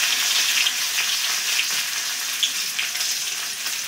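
Bay leaves, green chilies, curry leaves and black cumin sizzle in hot oil, a steady close crackling hiss with small pops scattered throughout and no voices.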